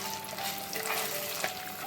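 Tomato paste sizzles in oil in a clay pot while it's stirred, a quiet continuous frying crackle with faint scraping, close by and without speech.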